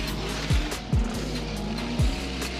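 A Formula Drift car engine in St. Louis revs hard and steady, sounding truck-like, with a few sharp downward pitch drops as it shifts, loud and close over background crowd noise.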